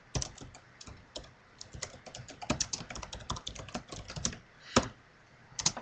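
Rapid typing on a computer keyboard, a dense, uneven patter of close key clicks lasting about six seconds, with a few heavier keystrokes standing out and no talking over it.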